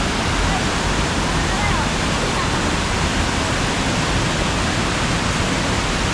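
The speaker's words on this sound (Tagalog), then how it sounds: "Malakas ang tubig oh." Strong floodwater rushes across a road after rain, a loud, dense, unbroken roar of flowing water that fills the scene with no pauses or distinct splashes.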